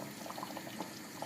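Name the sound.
boiling water poured onto eggplant ragout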